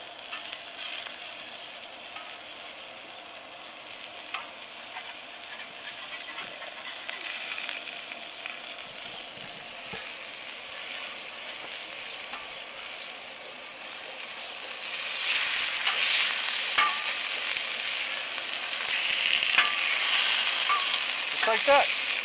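Cod fillets frying in oil on a barbecue grill, a steady soft sizzle that grows louder toward the end, with faint clinks and scraping.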